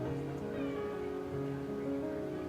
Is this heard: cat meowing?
yes